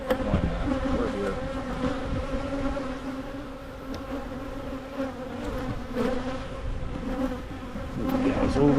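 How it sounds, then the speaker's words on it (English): Honey bees buzzing around a beehive, a dense continuous drone of many wings close by, with individual bees swelling louder as they pass near. "There's other bees that are attacking it."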